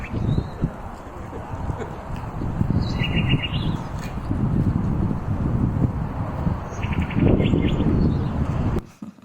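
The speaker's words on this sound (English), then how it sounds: "in the PORVOO case, it's reverse nightingale song" A sound beacon in Porvoo plays a reversed nightingale song, short chirping phrases heard faintly and intermittently over steady outdoor rumble and footstep-like clatter.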